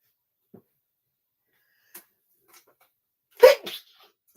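A single sharp sneeze bursts out in an otherwise quiet room, preceded by a few faint soft clicks and ending with a brief trailing breath.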